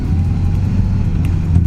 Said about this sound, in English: that engine's driving alright though, isn't it?